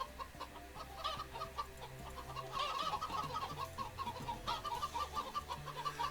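Chickens cluck steadily in the Minecraft video game, a continuous run of soft, repeated clucks over faint game ambience.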